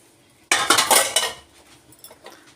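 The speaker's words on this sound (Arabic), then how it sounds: "حاطه البدنجان كده" Eggplant dropped into a pot of boiling water with vinegar, a sudden loud clattering splash of pieces hitting metal and water, then fading to faint bubbling and light clinks.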